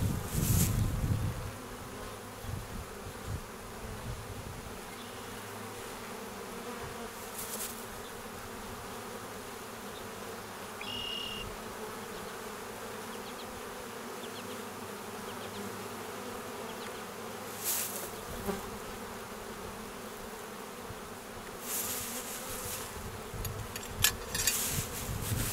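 Honeybees in a hiving trap hum continuously around the listener, a close, steady buzz with a few louder swells as bees pass near, no voices.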